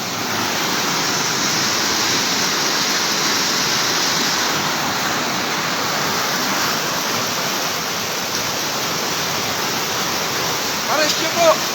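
Rushing flood water in Bonbon, Libon, Albay, a loud steady broadband roar of churning water close by, filling the whole stretch with only a faint brief sound near the end.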